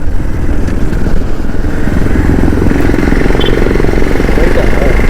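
A motor vehicle engine runs loud and steady at the start of a ride toward the Kodaikanal hills, a continuous close rumbling drone with clattering texture and faint voices buried beneath.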